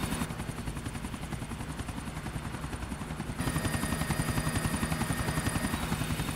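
A helicopter flying, its rotor producing a fast steady thumping chop with a turbine whine, loud and continuous, growing slightly louder partway through.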